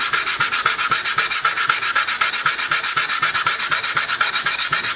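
Sandpaper scrubbed by hand over a metal motorcycle triple clamp gives a loud, rhythmic rasp, quick even back-and-forth strokes repeating about five times a second, close and alone.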